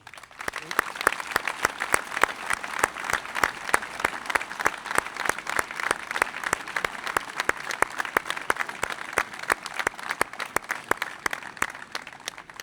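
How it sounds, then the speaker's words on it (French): Dense, sustained applause from a large audience honouring volunteers in green t-shirts at a gathering of young firefighters (JSP 33), steady and loud throughout with no break. "je voudrais que nous puissions collectivement les applaudir pour leur engagement"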